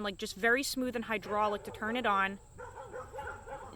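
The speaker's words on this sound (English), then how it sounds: "Sorry for the barking per usual." Dog barks and yips ring out sharply, close and loud, overlapping a man's speech; afterward the talking continues more quietly.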